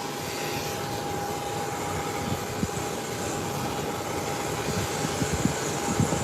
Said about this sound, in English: So a jet is taxiing down the runway for takeoff.